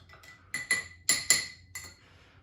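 Yeast stirred for homemade cider in a glass vessel, a spoon striking the glass in several sharp, bright clinks, some in quick pairs, close and clear with no voices.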